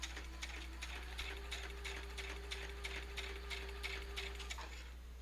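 Sewing machine running a straight stitch along junk journal pockets at a slow pace, a quick, even mechanical clatter with a steady motor hum beneath, close and continuous.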